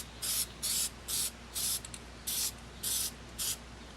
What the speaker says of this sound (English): I'm going to spray it with a little bit of this trim black